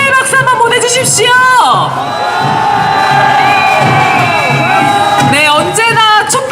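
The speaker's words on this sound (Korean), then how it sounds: "고생하셨다고 응원의 박수, 격려의 박수 한번 보내주십시오" A crowd at an outdoor street march cheering, whooping and shouting together, loud and close, with a sustained brassy tone in the middle and voices calling out over the noise.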